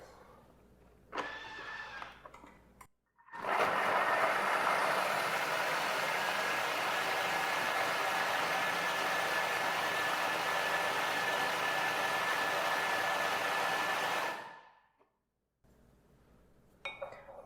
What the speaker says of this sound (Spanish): voy a licuar estos ingredientes a que se haga una mezcla homogénea.